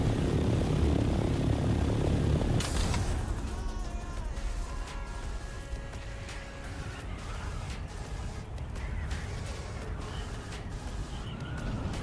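Ornithopter flying in the video game Dune Awakening, a steady whirring engine drone that drops in tone after a few seconds and continues at moderate level, with no talking.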